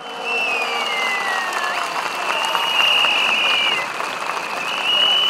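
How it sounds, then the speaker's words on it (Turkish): Sustained crowd applause at a large political rally in Tandoğan Square, Ankara, steady and dense throughout, with whistles and tonal sounds over the clapping. "Bir yürekten alkış yapalım, bir moral alkışı."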